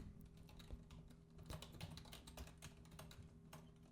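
Quiet, rapid clicking of computer keyboard keys in a steady run of taps, close but faint, with no other sound over it.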